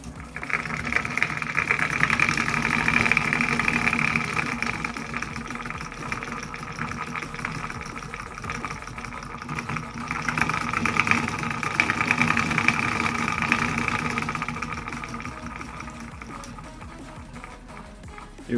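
A homemade solenoid engine powering a small car runs rough, with an uneven, knocking mechanical rattle that surges and fades unsteadily throughout.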